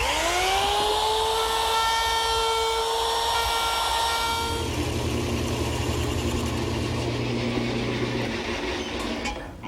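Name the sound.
trimming faces of tiger maple washstand parts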